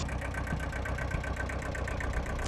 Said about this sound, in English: It's the Kubota, a lovely little tractor.